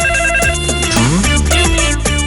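A telephone rings with a loud, melodic electronic ringtone, a repeating pattern of rising and falling notes that fills the short stretch with no speech.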